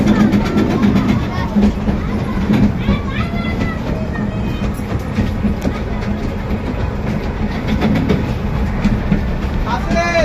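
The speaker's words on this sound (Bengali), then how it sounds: "রেলগাড়ি যাচ্ছে হাবিবালি পার্কের রেল, দেখতেই পাচ্ছ" A miniature park ride train at Happy Valley amusement park runs along its rails with a continuous rumble and light clickety-clack, close by, mixed with children's voices and people talking.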